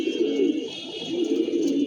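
Racing pigeons at a tournament loft during a 35 km race give low, rolling coos, close and steady, repeating in two soft swells with no voices.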